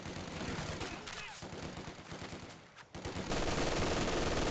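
Machine gun fire in a video game, two guns trading long bursts of rapid shots that run nearly continuously, loud and close, with talk heard faintly underneath.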